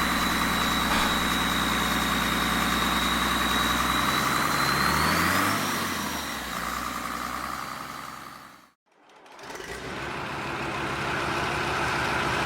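A vintage turbocharged Deutz BF6L913C diesel engine runs steadily at idle with a deep, loud mechanical drone and a faint turbo whine, easing off briefly, cutting out for a moment, then resuming.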